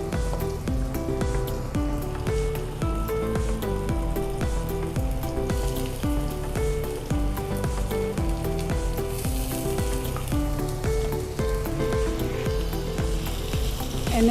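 Ginger-chili paste and ajwain sautéing in a pan, a dense, even crackling sizzle running steadily for the whole stretch, close-up and with no talking.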